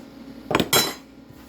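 A utensil clinks twice against a plate or container while mixing Jollibee burger steak with mushroom gravy, two quick close scrapes in a quiet room.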